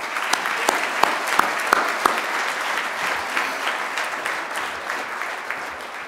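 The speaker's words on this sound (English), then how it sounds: "Would you please give those all a round of applause?" An audience at an explorers' society awards event claps heartily, with several sharp, close individual claps standing out early before the dense applause gradually softens toward the end.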